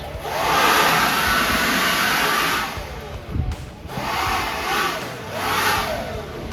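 A DeWalt 60V brushless cordless leaf blower runs close by with a loud, steady rushing roar of air that dips briefly midway, then surges again in uneven waves.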